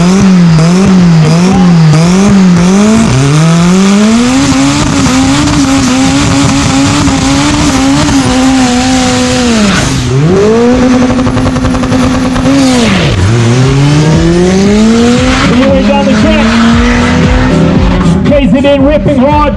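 A diesel VW Polo on a South African drag strip screams through its gears, the loud engine note climbing, dropping at each shift and climbing again, with a commentator talking over it throughout.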